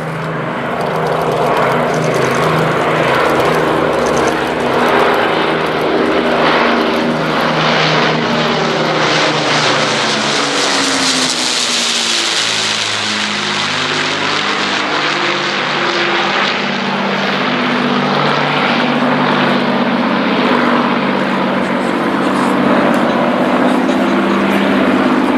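An Avro Lancaster bomber flies past at an air display, its four propeller engines droning loud and continuous, the pitch sweeping as it approaches overhead and then banks away.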